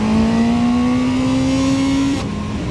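A CF Moto 750SR-S motorcycle accelerates hard in first gear, its loud, close engine tone climbing steadily in pitch for about two seconds before dropping sharply as the revs fall. No one speaks.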